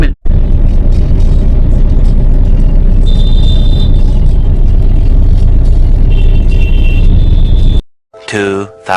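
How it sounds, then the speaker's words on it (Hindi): Busy city road traffic backed up at a signal, a steady dense rumble of car and truck engines with clatter running loud and close throughout, a voice speaking over it, before cutting to a short burst of other sound at the end. "रास्ते में ट्रैफिक इतनी ज़्यादा है"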